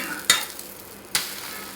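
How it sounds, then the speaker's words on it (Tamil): An egg omelette seasoned with cumin, salt and pepper cooks in a pan, with two sharp scrapes of a spatula against the pan over a quiet, steady sizzle. "இப்போ நம்ம ஒரு சாப்பாட்டுக்கு ஒரு ஆம்லேட் போட்டுக்கலாம்."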